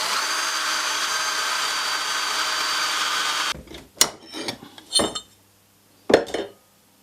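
A drill runs steadily, cutting 6 mm M6 clearance holes through clamped metal parts in a home workshop. Then it stops and is followed by a few sharp metallic clanks and handling knocks with quiet gaps between them.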